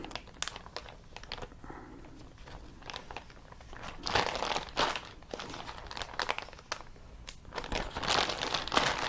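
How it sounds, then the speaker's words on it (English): A plastic bag holding vegetables and a curry mixture is shaken and turned over, giving loud, repeated crinkling and rustling bursts that go on without a pause. "I'm just going to mix it around so that all the vegetables get coated as evenly as possible with the curry mixture"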